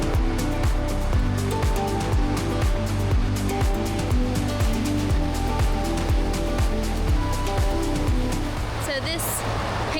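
A river flows through Manchester, New Hampshire, with a steady, close rushing wash of water on a gloomy day, and faint voices murmur underneath.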